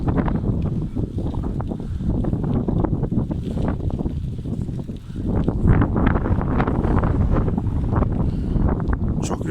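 Strong gusty wind buffeting the microphone while cycling, with loud, continuous low rumbling and rushing, no voices.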